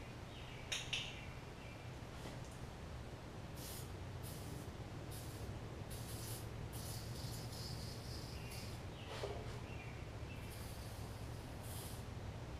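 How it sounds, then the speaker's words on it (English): Lube is sprayed from a can under the bottom pulley of a Craftsman LT1000 riding mower, heard as several short, sharp hissing bursts over a low, steady background hum. "Just spraying some lube under the pulley down here on the bottom."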